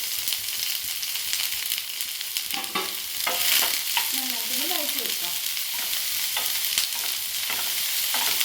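Sliced onion, ginger and green chili sauté in a hot pan with a steady, close sizzle, broken up by occasional scrapes and clinks as a spoon stirs them.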